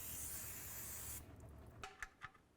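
Cleaner is sprayed in one steady, close hiss around the engine oil filter area of a 2007-2012 Nissan Sentra during an oil pan replacement, then stops, followed by a few faint clicks and drips.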